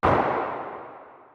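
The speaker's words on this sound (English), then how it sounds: "Add a low-pass stadium clap as well." One muffled, roomy low-pass filtered stadium clap sample bursts out and fades slowly into a soft reverberant tail, alone and fairly quiet, for a melodic deep house track.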